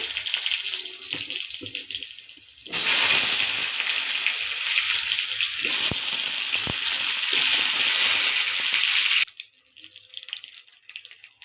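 Hog plums drop into hot mustard oil with mustard seeds and are stirred, a loud steady sizzle bursting in suddenly and running for several seconds before cutting off, with scraping underneath.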